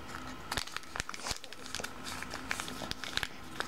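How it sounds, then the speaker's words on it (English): Origami paper being folded by hand, a run of crisp crinkles and sharp creasing snaps close to the microphone over several seconds, with a voice speaking over them. "Then take this tip and fold it down."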